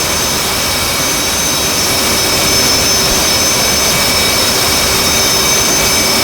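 F/A-18C jet engine during a cold start in a flight simulator game, a loud, steady, broadband roar with a high whine running continuously and no talk.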